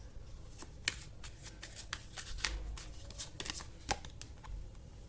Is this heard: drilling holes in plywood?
no